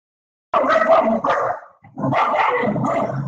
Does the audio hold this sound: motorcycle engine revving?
no